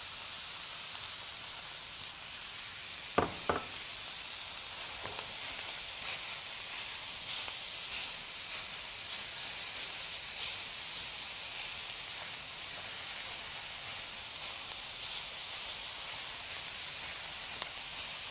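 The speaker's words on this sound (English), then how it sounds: "Using my chop and stir to kind of break up that beef a little bit" Ground beef and diced onion browning in olive oil give off a steady, soft sizzling hiss, and a few sharp clacks of a chop-and-stir tool scrape the pan early on.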